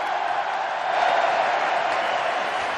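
A stadium crowd roars in a sustained, dense ovation as Ousmane Dembélé enters the pitch for Barcelona in the 67th minute of a Catalan derby, steady and loud throughout.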